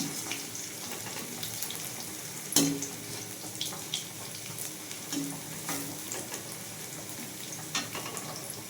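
Garlic sautéing in a pan for a tamarind-free turkey berry kuzhambu, a steady sizzle with occasional spoon scrapes and clinks as it is stirred, close and moderately loud.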